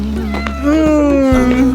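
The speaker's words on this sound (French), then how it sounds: "Il y a un chat." A cat meows up close, a loud drawn-out wavering cry rising in pitch, with a voice speaking briefly at the start.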